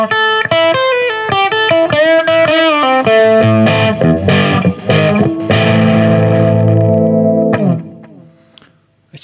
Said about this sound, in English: It's very organic sounding distortion pedal.